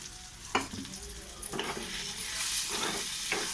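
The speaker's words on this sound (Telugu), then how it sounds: "ఉల్లిపాయలు వేగుతున్నాయి." Onions frying in oil in a pan for a tomato curry, a hissing sizzle broken by several scraping stirs that come in bursts, close and moderately loud.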